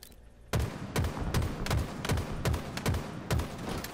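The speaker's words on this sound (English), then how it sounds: "I'm shooting the dummies" Gunfire at training dummies in Halo Infinite, a rapid regular series of about eight loud, punchy shots after a brief quiet start, each with a short booming tail, no voices.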